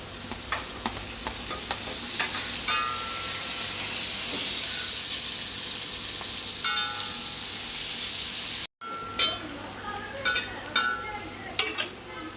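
Tomatoes hit a hot pan with a rising hiss and sizzle, followed by clattering stirring and scraping as the frying continues, cooking for a prawn theeyal curry.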